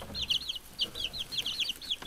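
Newly hatched chicks huddle under a heater, peeping in a quick string of high, thin chirps, close by and fairly soft, with no talking.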